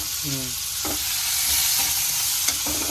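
Onions frying in a pan, a continuous close sizzle with a few stirring scrapes and a short clink, steady and fairly loud.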